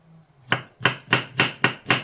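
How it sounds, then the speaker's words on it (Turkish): Six sharp knife chops on a board as onions are finely diced, evenly spaced and close, after a short moment of quiet. "Soğanlarımı tavşan dişi dedikleri şekilde doğruyorum küçük küçük."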